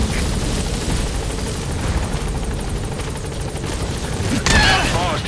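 A support helicopter arrives in a video game with a loud, continuous rotor thump and engine roar close by, under a dense wash of gunfire and booms, with a brief tonal radio-like sound near the end.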